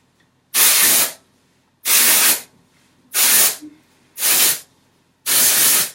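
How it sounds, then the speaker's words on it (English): Moroccanoil dry shampoo is sprayed in five separate, evenly spaced hissing bursts along the part line of sectioned hair. Each close, loud spray lasts about half a second, with quiet gaps between them. "I'm going to do little sprays in the part line."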